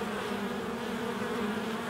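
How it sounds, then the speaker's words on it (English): Honeybees buzz at a hive entrance as foragers return carrying ivy pollen, a steady faint drone of many wings with no voices. "Look at those bees going in there with all that pollen on."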